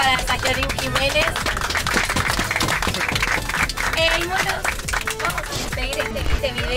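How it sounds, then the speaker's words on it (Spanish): Applause and clapping from a group at a taekwondo martial arts retreat in Córdoba, dense and steady throughout, mixed with overlapping voices and some tonal sounds in the background. "Un aplauso para Sayorín Jiménez."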